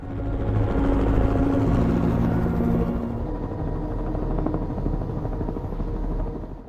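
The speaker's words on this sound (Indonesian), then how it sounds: "Melihat helikopter kelompok Michelle udah terbang" A helicopter flies through a heist-film scene, its loud, steady rotor and engine roar close and continuous throughout, easing slightly toward the end, with no talking over it.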